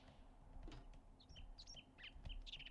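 A bird in the survival game 7 Days to Die gives a string of short, high chirps and tweets. The calls are fairly faint and scattered over a low steady background hum, with no talk.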